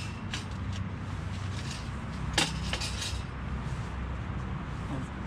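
Metal oven tray and small oven grill for a tent stove being handled, a few light clinks and taps over a steady ambient hiss.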